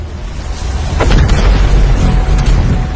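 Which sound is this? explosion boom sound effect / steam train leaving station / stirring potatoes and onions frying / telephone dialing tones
explosion boom sound effect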